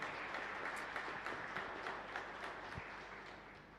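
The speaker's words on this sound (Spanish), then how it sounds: "para ellos un fuerte aplauso en gratitud" Congregation applauding during a Catholic Mass for the Epiphany in a chapel, a steady crowd of hands clapping throughout, easing slightly toward the end.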